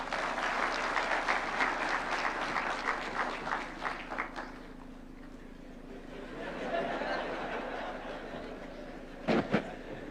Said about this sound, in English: Another round of applause for the chair.